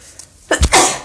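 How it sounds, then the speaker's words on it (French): A single sharp sneeze, close and loud, with a short intake of breath just before the burst. "Alors, je vais éternuer."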